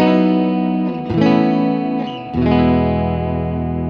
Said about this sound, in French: Elle est très très jolie cette reverb que j'utilise là.